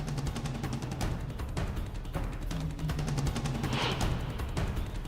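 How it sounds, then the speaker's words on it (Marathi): Rapid, dense gunfire crackles and pops during an army clash in Qabatiya in the West Bank. The bursts repeat in irregular volleys over a constant noisy background for several seconds. "सैन्यानं प्रत्युत्तर देत इथे गोळीबार केला होता."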